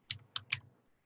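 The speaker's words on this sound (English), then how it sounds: "So you're going to start typing in the address" Three crisp keystrokes on a computer keyboard while an address is typed, close and distinct with brief pauses between them, in a quiet room.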